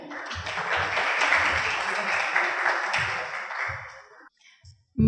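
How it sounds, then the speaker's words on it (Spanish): Audience applause at a conference talk on Ecuador's temporary deposit market, a moderately loud wash of clapping from a seated crowd that swells, holds for several seconds, then thins out and fades to scattered claps. "un fuerte aplauso para ella"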